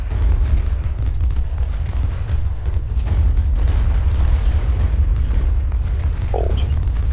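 Sustained cannon artillery barrage in the Civil War strategy game Ultimate General: Civil War, a steady heavy rumble of overlapping booms and bursts throughout, loud and unbroken.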